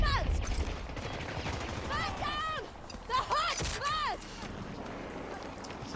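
Gunfire in the Battlefield 2042 video game crackles in bursts beneath chaotic battle noise, with sweeping electronic whooshes and people talking over the fight.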